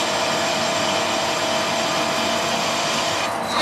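A lathe cutting a thread in stainless steel, a loud, steady mechanical whir with a faint tonal whine that holds constant throughout and changes slightly at the very end.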